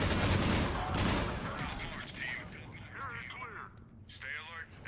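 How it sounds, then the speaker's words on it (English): Gunfire from Mass Effect 3 multiplayer, a loud burst of shots up front that fades into a steady background of more distant firing, with game voices and effects layered over it. "Who's shooting me?"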